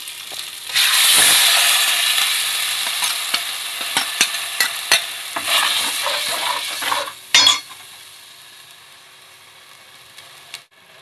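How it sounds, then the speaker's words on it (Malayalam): Drumstick leaves and onion with salt are sautéed in a pan: a continuous bright sizzle with scattered clinks and scrapes of a spoon stirring, louder at first and gradually easing off. "മുരിങ്ങയിലയിലൊക്കെ ഉപ്പ് പിടിക്കാൻ വേണ്ടി നമ്മൾ ഉപ്പിട്ട് വഴറ്റി കൊടുക്കണം."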